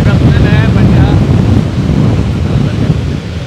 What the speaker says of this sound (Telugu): ఇక్కడ సముద్ర కెరటాలు చాలా బుద్ధిగా ఉన్నాయండి